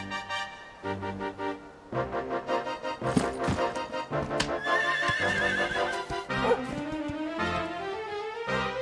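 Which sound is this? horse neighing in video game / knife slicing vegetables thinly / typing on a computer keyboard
horse neighing in video game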